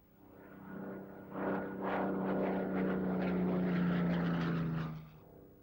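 A Hawker Hurricane WWII fighter plane with a Rolls-Royce V12 engine flies past, its propeller drone swelling from faint to a loud, steady roar, then fading away near the end.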